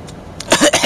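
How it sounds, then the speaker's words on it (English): A few harsh, throaty coughs in quick succession, close and fairly loud, after a brief quieter breath. "Coughing."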